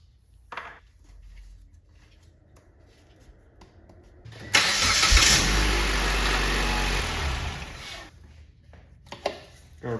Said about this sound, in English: we're going to run the engine and verify.